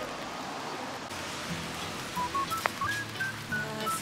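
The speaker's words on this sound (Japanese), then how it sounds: "すごい雨" Heavy rain pours down at a beach, a steady broadband hiss throughout with a few brief tonal chirps in the second half and no talking.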